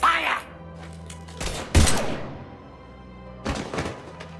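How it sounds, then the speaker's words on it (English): Gunfire in Mass Effect Legendary Edition, a few sharp, loud shots spaced apart over a few seconds, with quieter game ambience in between. "Now open fire!"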